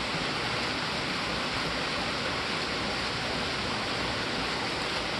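A river rushes loudly and steadily, a dense, unbroken roar of flowing water that fills the whole scene.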